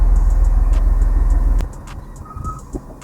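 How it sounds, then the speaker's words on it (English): Heavy garbage truck idling just outside a door: a loud, steady low engine rumble that cuts off abruptly partway through, leaving faint street noise and a few small knocks. "There's a garbage truck right outside the door."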